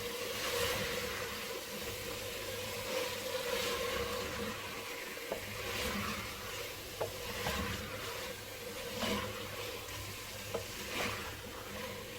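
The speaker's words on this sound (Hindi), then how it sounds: "हम अच्छे से भूनेंगे।" Chicken masala frying in a handi, a steady crackling sizzle with scraping stir strokes recurring every second or two, close and even throughout, no voices.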